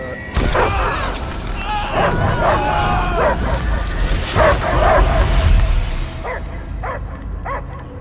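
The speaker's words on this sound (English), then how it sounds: "I hear only barking" A dog barks repeatedly in the video game Marvel's Guardians of the Galaxy amid game sound effects and booms, with voices talking over it; the barks continue alone toward the end.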